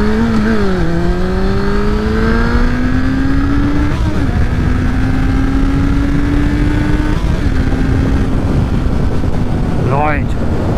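A Suzuki GSF Bandit 600 naked motorcycle on its first ride after sitting, still unsettled in its revs, drones steadily at close range with rising and falling engine pitch under heavy wind rush, and a rider speaks over it.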